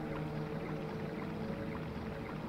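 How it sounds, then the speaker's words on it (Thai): A boat glides through water in a Chinese horror video game, a steady wash of water and low rumble running evenly throughout with no talk. "เราล่องเรือไปครับ"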